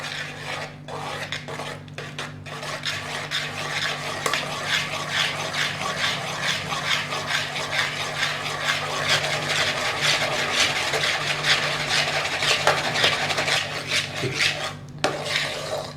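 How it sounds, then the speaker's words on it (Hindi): A big spoon beating malai cream in a bowl for homemade desi ghee, making a steady, fast scraping and rubbing rhythm that continues for about sixteen seconds, with occasional short pauses near the start and end. "हमें इस तरह से एक बड़े स्पून की मदद से इस मलाई को फेंटते रहना है।"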